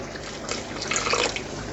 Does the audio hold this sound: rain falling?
no